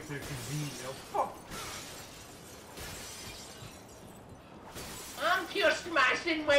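Glass shattering at a Wendy's in the video game Modern Warfare 2, with a sharp crash early on and a later burst of breaking, mixed under excited voices talking.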